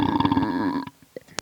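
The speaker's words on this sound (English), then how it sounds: "Little brother burps" A little brother lets out a long, deep, loud burp on an old 1995 home recording, a gravelly, roaring belch close to the mic lasting nearly a second, followed by faint thumps and small noises.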